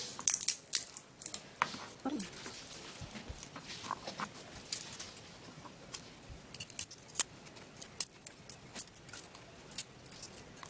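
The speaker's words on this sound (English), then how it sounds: "So I'm going to peel the garlic." Garlic cloves being peeled by hand make faint, irregular papery crackles and crinkling snaps, close up and quiet, scattered across several seconds.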